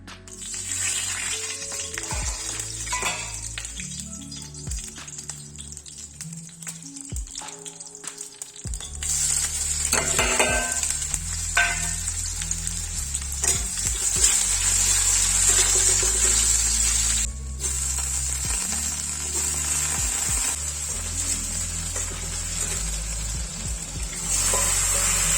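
Marinated mutton frying in a pan, a steady loud sizzle that swells around the middle and continues with occasional stirring and clinks of utensils, no talking.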